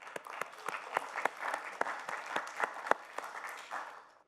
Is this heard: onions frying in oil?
no